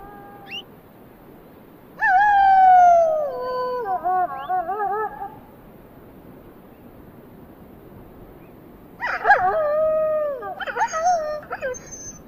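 Wolves in the wild landscape of Tibet and Kashmir howl in two loud bouts, with several voices rising and wavering together, then fall quiet. A soft background hiss sits underneath.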